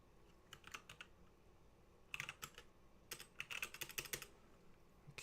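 Keys clatter on a half-working computer keyboard while using Slackware 3.0: irregular clusters of quick, close keystrokes separated by brief pauses, with no voices.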